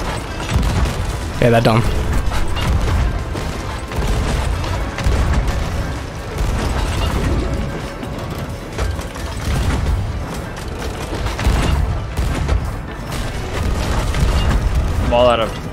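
Ship cannons in the Sea of Thieves video game boom repeatedly through a dense, continuous din of naval combat, with heavy low thuds recurring across the clip under a steady wash of noise while players talk over it.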